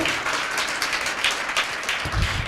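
Congregation applauding during an Easter Sunday church sermon, a steady wash of many hands clapping at moderate distance, with a low thump near the end and no speech over it.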